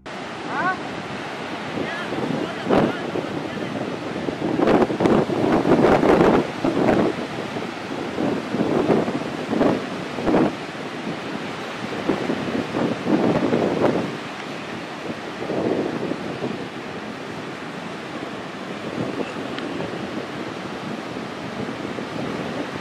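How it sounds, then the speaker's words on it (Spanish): Ocean waves break and wash against the shore, rising and falling in surges while wind buffets the microphone with rough gusts. "que no está muy fuerte las olas"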